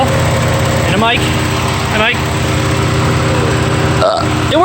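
A car engine runs at a steady, even idle after a new ignition coil was fitted, droning close and continuously while people speak briefly over it.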